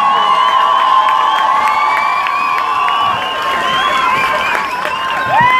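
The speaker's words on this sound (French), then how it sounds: "Vous applaudissez très fort, s'il vous plaît, très fort" A large outdoor crowd cheers, whoops and applauds loudly for a children's performing group at a festive year-end holiday lights launch in Pau, with high shouts and sustained clapping throughout.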